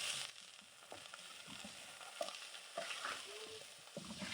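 Chicken pieces hitting a pan with a tablespoon of oil, giving a quiet, soft sizzle with occasional light scraping and tapping of a utensil, close but faint.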